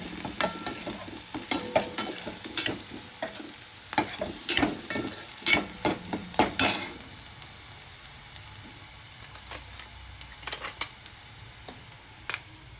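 Finely chopped spring onion greens fry and get stirred in a pan, with bursts of spatula scraping and crackling sizzle over the first seven seconds, then a softer steady frying hiss with a few isolated ticks.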